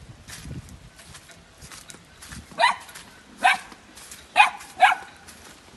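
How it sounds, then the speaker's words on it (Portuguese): A dog barks four times in sharp, spaced bursts at moderate distance, following a few quieter yips and rustling. "Cala a boca, cachorro."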